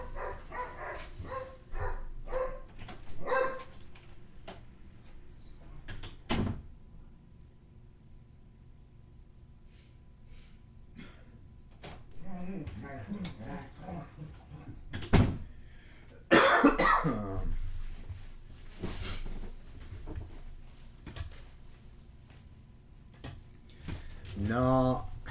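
Dogs bark in several short bursts at mid distance inside a home, mixed with coughing and throat clearing, quiet stretches and occasional handling noises.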